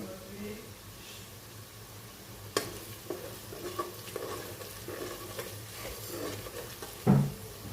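Onions fry in a pan at a soft, low sizzle, with a few stirring scrapes and a clunk near the end, fairly quiet and close, with some faint background voice.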